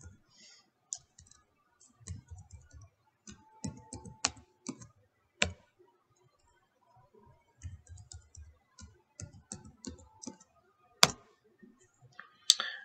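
Clicking keystrokes on a computer keyboard as a password is typed, irregular bursts of soft taps with a few sharper key hits and short pauses, close and fairly quiet.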